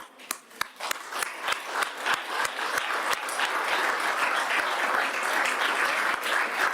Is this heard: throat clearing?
no